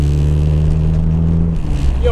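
A car rumbles loudly right alongside with a steady engine hum, then shifts pitch as it pulls past close by, while people talk over it.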